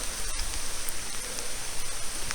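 Steady rain hisses down during a bike ride on a dark early-morning road, a dense, even wash of drops that stays constant and fairly loud throughout, with no talking.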